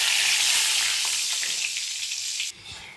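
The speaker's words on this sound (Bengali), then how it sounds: "তেলে শুকনো লঙ্কা আর তেজপাতা ফোড়ন দিয়ে দিলাম।" Dried red chillies and bay leaves hiss loudly as they hit hot oil for tempering, a bright steady sizzle that eases slightly before dropping off abruptly near the end.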